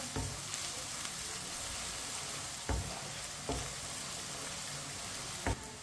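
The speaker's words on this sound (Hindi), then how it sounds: "लहसुन को भी 1 मिनट के लिए मैंने पका लिया चम्मच चलाते हुए।" Garlic fries in a pan over high heat with a steady loud sizzle while a spoon stirs it, and several distinct scrapes and knocks of the spoon come through the crackle.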